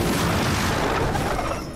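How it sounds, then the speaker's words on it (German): Explosions in the video game Marvel Midnight Suns, a dense rumbling burst of booms that fills the moment and tails off slightly, loud and close. "Explodieren die jetzt auch alle?"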